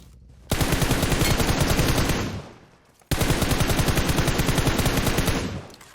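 Two long bursts of rapid automatic gunfire in a video game, as a gun shoots out a vehicle's tires; loud, close, dense rattling, each burst about two seconds with a brief gap between.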